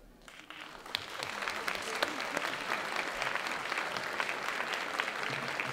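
Dense applause from a lecture audience at a college talk on the age of criminal responsibility, rising quickly and holding steady as a full room claps at once.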